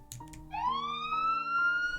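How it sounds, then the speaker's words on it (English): A police siren from the Higurashi Kageboushi video game rises in a smooth upward wail, clear and steady over faint background tones with no talk. "it's really, really good that there's police sirens"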